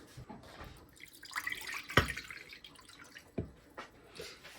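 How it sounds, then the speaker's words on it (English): Water is poured into a handmade resin water feature, a close, fairly soft trickle and splash with a few distinct drips and plops throughout. "let's fill it up with water"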